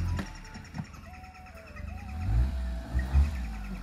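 Small car engine, an Alto 800 or Maruti 800, revving as it reverses off-road through thorny brush, with low rumbling surges that swell toward the end and a few faint scrapes, no talk.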